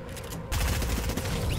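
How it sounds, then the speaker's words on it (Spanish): Gunshot from the right side in Fortnite, an abrupt loud burst of fire that starts partway in and continues as rapid rattling reports over a constant game background. "Este disparo del lado derecho"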